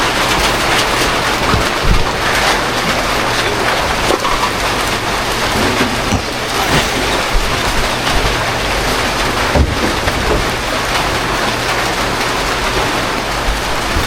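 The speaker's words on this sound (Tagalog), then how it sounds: "Umuulan na naman." Heavy rain pours steadily onto a surface, a loud, unbroken hiss for the whole stretch, with a low rumble underneath that could be distant thunder.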